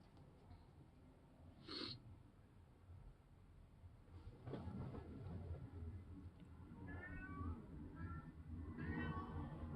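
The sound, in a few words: cat meowing at door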